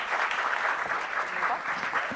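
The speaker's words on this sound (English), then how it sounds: "Can we welcome them with a big round of applause?" An audience at a women's panel event gives a short, even round of applause, a moderately distant wash of many hands clapping without pause.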